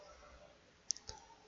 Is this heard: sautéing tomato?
no